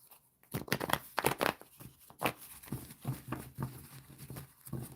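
Tarot cards are shuffled in quiet, irregular bursts of papery flicking and soft riffling taps, close and faint, with short pauses between shuffles.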